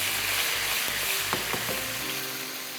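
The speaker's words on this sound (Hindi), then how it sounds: "थोड़ा सा फ्राई करते हैं" Carrot and turnip pieces frying in a pot for a shab daig dish, a continuous close sizzle with a few sharp scraping stirs in the middle, no voices.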